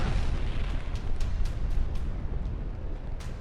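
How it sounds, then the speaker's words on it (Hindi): Heavy, continuous booming rumble from Israeli tank shelling that hit the Holy Family Catholic Church in Deir al-Balah, Gaza, dense and loud throughout with faint sharper cracks on top. "कैथोलिक चर्च पर हुए इस धमाके ने पूरी दुनिया को हिला दिया"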